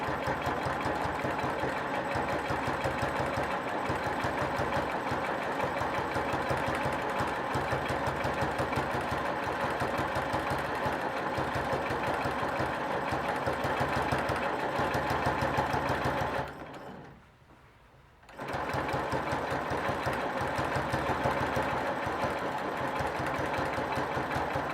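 A sewing machine stitching a row of a quilt, a steady fast mechanical whir with rapid needle clatter, running continuously with one short pause before starting again.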